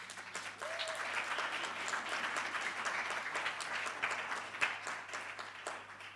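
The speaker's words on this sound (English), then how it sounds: "your round of applause was not enough" Steady, even applause from a conference audience, many hands clapping at once at moderate distance, continuous with no pause.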